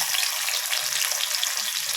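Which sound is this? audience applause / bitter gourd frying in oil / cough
bitter gourd frying in oil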